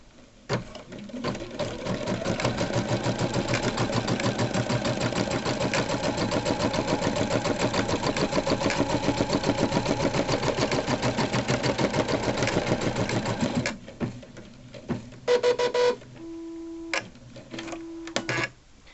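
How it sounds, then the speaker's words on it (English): An embroidery machine sews the placement stitch for an applique, a fast steady rapid needle chatter running loud for about fourteen seconds before stopping, followed by a few short mechanical beeps and whirs. "The first stitch out in applique is a placement stitch."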